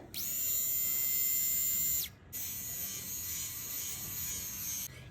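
A battery-powered electric hair removal machine, fully charged, hums steadily and close up for about two seconds, cuts out briefly, then starts again and keeps running in a continuous high-pitched whine.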